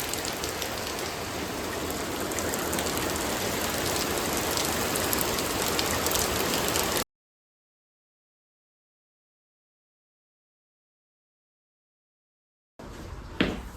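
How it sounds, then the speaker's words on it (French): Steady rain pours with a dense hiss for several seconds, then cuts to silence before a short outdoor sound returns at the end. "Il pleut absolument tous les jours, il pleut tous les jours."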